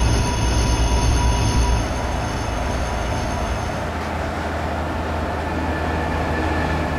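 An Indian train with a WAP4 locomotive runs in Train Simulator Classic, producing a steady heavy rumble with a high whining tone at the start that fades after a couple of seconds, then continuous rolling noise.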